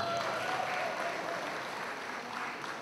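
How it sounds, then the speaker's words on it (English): Applause at an independence gala and awards banquet, a fairly quiet but steady wash of clapping from a crowd in a large hall, with a faint tonal sound in the background early on. "Please give us a round of applause."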